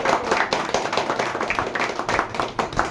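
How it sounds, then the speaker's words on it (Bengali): An audience at a mobile repairing batch ending program claps loudly, a dense, continuous patter of hands that stays steady and close for the whole stretch. "জোরে হাততালি, জোরে জোরে জোরে"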